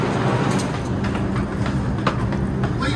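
A train rumbles along with a continuous low roar and scattered rattling clicks from the cars, heard from close by onboard, with no clear talk over it.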